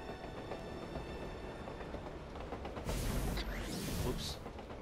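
A train rumbles along in the action game Gravity Rush Remastered, a steady low rolling noise with a brighter hissing surge partway through, fairly quiet under the game's ambience.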